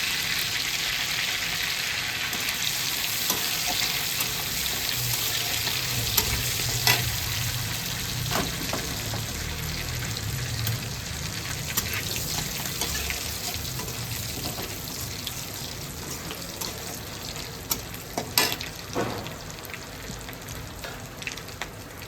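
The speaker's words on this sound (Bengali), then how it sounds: "দিয়ে দিচ্ছি শুকনো লঙ্কা, তেজপাতা, আর দিয়ে দেবো একটু জিরে।" Dried red chillies, bay leaves and cumin seeds sizzle and crackle steadily in hot oil in a home kitchen, a continuous close frying hiss with occasional sharper pops and a stirring scrape, no talking.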